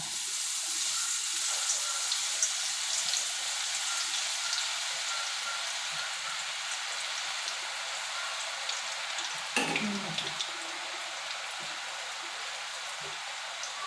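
Gram-flour batter drops through a perforated ladle into hot oil for boondi laddu, giving a steady close hiss and crackle of frying with a brief bubbling surge partway through, no voices.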